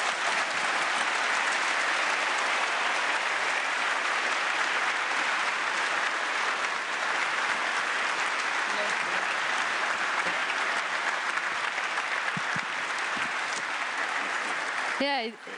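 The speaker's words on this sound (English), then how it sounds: "it deserves a round of applause indeed" A large audience at an EU leaders' industry conference in Antwerp applauds in a dense, sustained wash of clapping, and a voice speaks over it at the very end.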